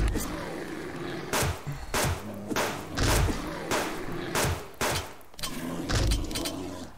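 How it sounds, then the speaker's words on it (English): A pistol fires repeatedly at a bear in the survival video game Subsistence, a run of sharp, heavy thumping shots spaced irregularly over a quiet ambient background. "we're going to have to use our pistol on him."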